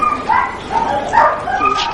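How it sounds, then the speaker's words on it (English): Greyhounds at an English greyhound race meeting bark, yip and whimper before the race, a close, busy cluster of several excited yelps and barks overlapping one another. "These dogs are greyhounds"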